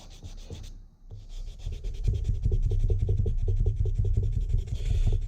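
Sandpaper rubs over a filed vine pattern on a metal guard in steady, close back-and-forth strokes, a rhythmic gritty scraping that starts after a short pause and carries on loud and even.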